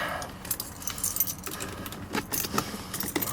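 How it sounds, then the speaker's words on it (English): A set of car keys for a 1974 Jensen Interceptor jangles and clinks close up, a busy metallic rattle of small bursts over several seconds with no talking. "Here's the set of keys. There's 2 sets come with it. Let's put that in."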